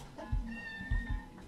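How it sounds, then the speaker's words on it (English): A cartoonish cat meows inside the video game Off: a single drawn-out, sustained mew sitting over quiet low thumps of the game's soundtrack. "It actually meows."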